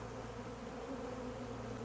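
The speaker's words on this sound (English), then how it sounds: "It's just loaded with bees." Honey bees swarm and rob an opened hive box of a Brazilian pepper hive collection, a dense continuous buzzing hum filling the whole moment at close range, steady and loud with no voices.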